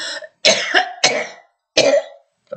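A woman lets out several harsh, hoarse coughs in separate bursts with short pauses between them, close and fairly loud.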